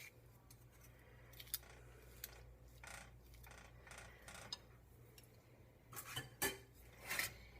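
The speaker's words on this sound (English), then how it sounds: "So I'm going to take a spoon and rake that off." A metal spoon scrapes oatmeal and chocolate-covered raisin cookie dough off, producing faint scattered clinks and scratchy rubs over a low steady hum, with a few sharper metallic clicks toward the end.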